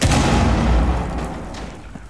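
A grenade goes off in Rainbow Six Siege, one heavy low boom up close that rolls out and fades over about two seconds, with no talk over it.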